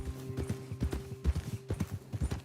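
Horse hooves in Red Dead Redemption 2 clip-clop at a steady trotting rhythm, close and clear, a run of even hoofbeats with no talk over them.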